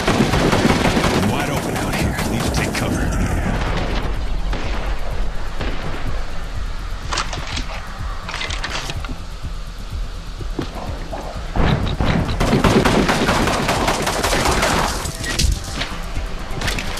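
Gunfire in the VR game Fracked crackles in loud, close bursts of rapid machine-gun fire, with quieter stretches between volleys, then heavy shooting again.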